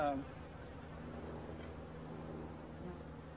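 Honeybees buzzing around an opened hive, a steady low drone from many insects close by, continuous and even throughout.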